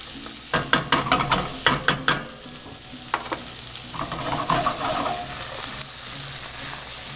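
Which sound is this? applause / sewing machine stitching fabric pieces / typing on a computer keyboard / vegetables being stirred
vegetables being stirred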